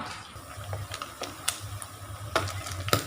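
Fish deep-frying until crispy, a steady close sizzle of hot oil with scattered sharp crackles and a few utensil clinks and scrapes, no voices.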